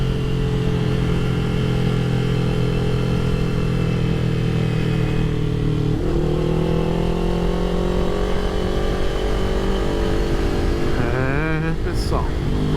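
A Kawasaki Ninja motorcycle engine drones loudly and steadily while riding, the pitch climbing as it accelerates through gears, with a brief shift partway and a rising rev near the end.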